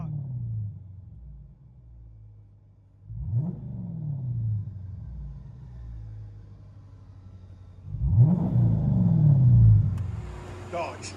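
A 2015 Dodge Charger R/T with a 5.7L HEMI V8 and dual exhaust with glass packs idles with a deep, throaty rumble. Two sharp revs swell and fall back to idle, heard close up from inside the car.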